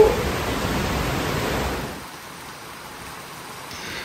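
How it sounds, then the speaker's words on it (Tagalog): Strong wind and heavy rain during Typhoon Kristine in the Philippines, a loud dense roar of rain and gusts that drops off partway through and then continues as a softer steady wash. "malakas na hangin sa ulan"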